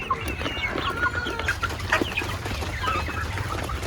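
A flock of farm chickens, some of them sick, clucks and chatters in the rainy season, with scattered overlapping calls and occasional wing flaps at moderate distance over a low steady background.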